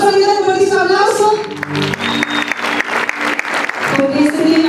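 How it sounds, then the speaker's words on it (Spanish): Loud, sustained applause from an audience at an anniversary music performance, dense clapping filling the whole stretch, with music or voices blending in at the start and end. "¿Le vamos a brindar un fuertísimo aplauso?"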